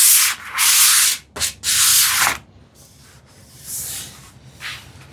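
Sandpaper rubbing back and forth over a wood finish on a TV unit between coats, three long loud strokes followed by lighter, quieter passes, with no talking.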